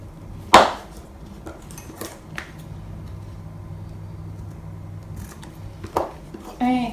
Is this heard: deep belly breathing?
no